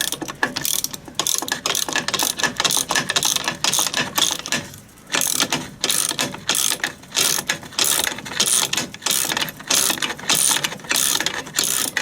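A hand socket ratchet on a 13 mm nut during clutch master cylinder work on a Land Rover Defender TD5, giving close, rapid clicking pawl bursts in repeated strokes with a brief pause midway.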